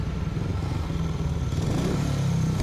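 Speedway motorcycle engine in a Speedway Grand Prix video game, a worn, tired-sounding engine revving in a continuous buzzing drone that swells slightly toward the end, fairly close and steady.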